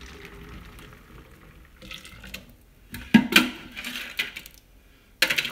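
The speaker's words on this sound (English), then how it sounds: "So then all you're going to do is pour it into your cold canister." A mixed drink poured into a cold canister gives a liquid splash and pour with a few clinks and sharp knocks, close and intermittent, with no talking.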